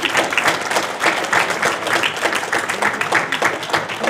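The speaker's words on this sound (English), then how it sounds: "can we get another round of applause for that?" Audience at a BPA chapter meeting breaks into lively applause, dense and sustained clapping from a nearby crowd for several seconds.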